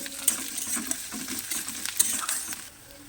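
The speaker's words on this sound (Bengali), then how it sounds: "কাঁচা লঙ্কাটা দিয়েও ভেজে নেব" Chopped green chillies fry with onions in a pan, a brief close sizzle punctuated by quick scraping stirs of a spatula that fades slightly at the end, with no talking.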